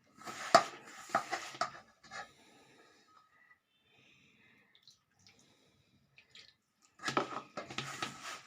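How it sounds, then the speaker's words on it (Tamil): Gram flour dough for kadalai sev being kneaded and beaten by hand, giving wet squishing, slapping bursts at the start and again near the end, with a quiet stretch between. "இதை நல்லா அடித்து பிசைஞ்சிக்கணுங்க."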